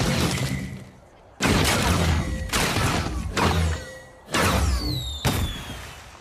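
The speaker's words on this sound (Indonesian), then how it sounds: "Lalu kenapa mereka memulai pertunjukan kembang api?" Several loud booming bursts of fireworks in an animated cartoon, in quick succession, each with crackling and whistling tails, separated by brief quieter gaps.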